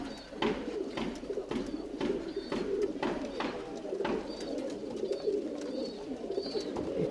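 Tumbler pigeons coo steadily in a Bangalore loft, their soft rolling calls layering over one another, with occasional light clicks and flutters scattered through.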